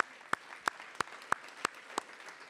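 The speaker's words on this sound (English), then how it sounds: "So quick round of applause for our 3 new thought partners." Sparse audience clapping at the Kennedy Center Arts Summit, a handful of sharp, separate claps landing at a slow, regular pace, close and distinct against a quiet room.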